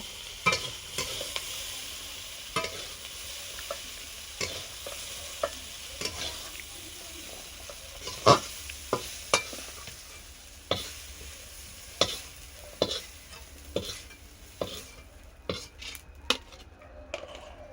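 Quiet frying sizzle of carrots and peas in an uncovered pan, punctuated by regular sharp knocks and scrapes of a spatula stirring the food.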